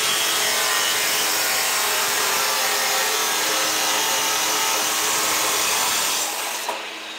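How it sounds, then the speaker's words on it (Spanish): Power saw cutting material for a concrete block mold outdoors at dusk, a steady loud grinding buzz running almost continuously before trailing off at the end. "Ahora sí, ya Carlos terminó de cortar ese material"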